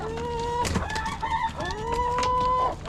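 Several farm chickens cluck and a rooster crows as the flock crowds out of the coop door during morning chores, the calls close by and overlapping in quick succession.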